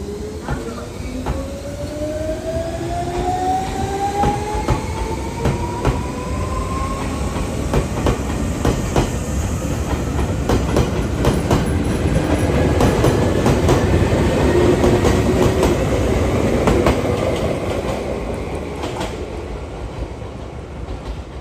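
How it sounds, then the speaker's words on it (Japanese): A freight train passes through Atami Station platform 2 at close range, a long steady roar of wheels and clattering cars with rising tonal whine, fading slightly toward the end. "まもなく2番線を貨物列車が通過します。"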